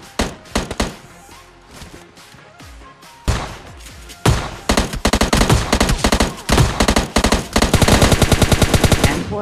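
M4 rifle fire in PUBG Mobile Lite: scattered single shots and short bursts, then sustained rapid automatic fire building to a loud, dense rattle of evenly spaced cracks, with no talk.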